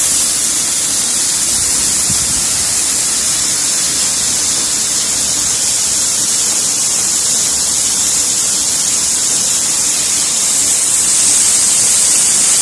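Steady, loud roar of a waterfall heard from underneath the falling water, a dense unbroken wash of spray noise that fills the whole stretch without any voices.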